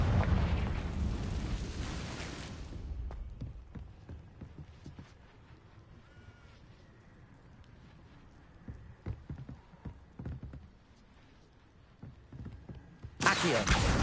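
Confringo fire spell explosions in a Hogwarts video game, a loud roaring blast at the start and another at the end, with scattered softer thuds and clip-clop-like steps in a quieter stretch between.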